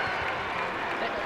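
A crowd at a high school boys basketball playoff final roars steadily in a gym, a continuous dense swell of cheering and applause blended with voices.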